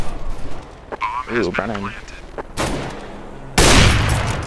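Gunfire erupts in Counter-Strike on de_dust2, with loud sharp bursts of shots cutting in late over game noise after a short spoken remark.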